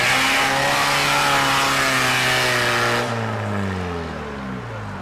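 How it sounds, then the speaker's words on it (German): A vehicle's engine roars loud and close, climbing in revs, then pitch drops as it passes and fades away; the setting is an outdoor gathering on Männertag with a quad nearby. "ganz hinten kommt, glaube ich, ein Fahrzeug"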